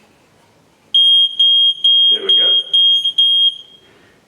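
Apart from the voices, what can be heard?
water leak detector alarm beeping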